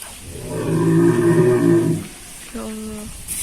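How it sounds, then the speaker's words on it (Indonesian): Large cattle at a farm on an agrotourism site low loudly and close by, with one long deep moo followed by a shorter second call. Voices sound faintly in the background. "Tapi sapinya besar-besar."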